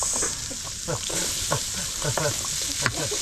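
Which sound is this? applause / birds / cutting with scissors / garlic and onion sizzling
garlic and onion sizzling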